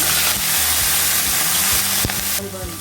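Small shallots, curry leaves and coriander leaves sizzle steadily in a hot pan, a loud continuous frying hiss broken by a few clinks of stirring.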